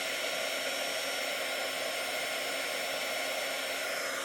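A heat tool blows hot air to melt garment material for junk journal crafting, making a continuous, even, loud whooshing roar from start to finish.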